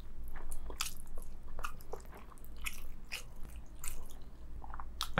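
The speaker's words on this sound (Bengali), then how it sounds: "আমি জাস্ট ওই যে মাছটুকু খেলাম" Someone eats spicy big fish curry with rice at close range, with soft wet chewing and occasional crunchy bites, irregular smacking and squishing at a quiet level with no talking.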